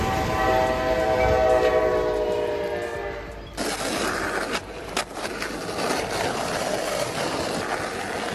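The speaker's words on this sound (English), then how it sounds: "a train approached at high speed" A train races past at high speed near an Ohio crossing, its horn blaring in long harmonic blasts for about three seconds before a rushing roar of wheels and wind takes over, loud and close.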